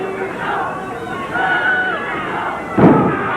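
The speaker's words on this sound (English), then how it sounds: "Now the crowd beginning to give Hubert some motivation, they hope." A 1985 Stampede Wrestling arena crowd roars and murmurs in a dense, continuous din under a commentator's voice, swelling with a sharper burst of cheering near the end.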